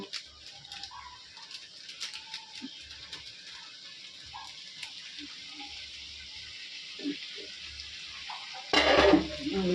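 Chicken sautés in a pan in a home kitchen, a faint, steady sizzle with scattered soft clatters, then a louder burst of noise near the end.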